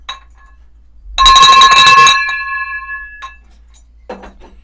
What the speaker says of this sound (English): A lot of bell ringing.